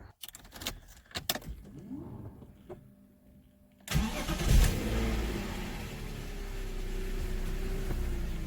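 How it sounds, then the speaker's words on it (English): A BMW E46 project car's engine cranks and catches after some faint clicks and rattles, then settles into a steady, smooth idle close by with no speech. "We are going to start the engine now as is, just for a few seconds"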